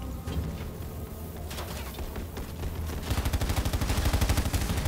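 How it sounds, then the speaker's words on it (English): Gunfire in the real-time strategy game Halo Wars 2, with battle noise building to a dense, rapid run of shots in the second half, loud and continuous. "Marines under fire from enemy air units!"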